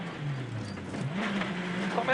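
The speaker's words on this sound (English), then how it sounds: "Francois Delacour screaming the 207 S2000 down the road." A Peugeot 207 S2000 rally car is driven hard down a stage road at a European Rally Championship event, its engine note rising and shifting with a commentator talking over it.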